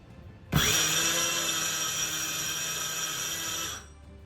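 An electric dry food grinder, a home grain mill, whirs up abruptly and runs at a steady high-pitched drone for about three seconds before cutting off, loud and close with no talk.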